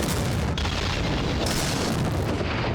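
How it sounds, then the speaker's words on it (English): A big explosion in a Musketeers TV drama episode roars as a loud, broad, sustained blast of rumbling noise, with a sharper burst partway through. "Good explosion."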